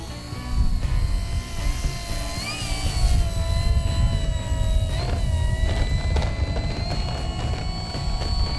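A Hobbyking Avios Grand Tundra RC plane drones overhead with a steady electric whine, its pitch shifting slightly as it passes, loud and continuous over a windy rumble.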